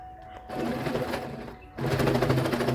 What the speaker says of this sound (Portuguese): eu passo a costura, finalizando esse acabamento em viés